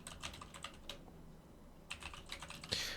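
Rapid typing on a computer keyboard, close and clear, in two bursts separated by a brief quiet pause, with no voices.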